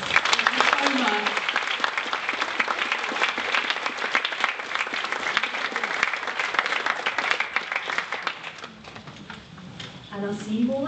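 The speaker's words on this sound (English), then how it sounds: "another big round of applause" A lecture audience gives a sustained round of applause, dense steady clapping filling the space for about ten seconds and easing slightly near the end, with a voice briefly heard over it at the close.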